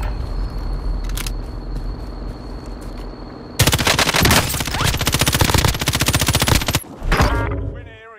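Rapid automatic fire from an M13 rifle in Call of Duty: Warzone Pacific, loud and sustained bursts that start abruptly partway through after quieter game ambience, then cut off with a final short burst.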